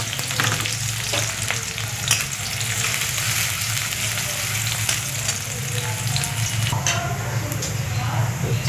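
Chopped onion fries in oil with a dense, steady sizzle and occasional stirring scrapes, loud and close throughout, with a faint voice underneath.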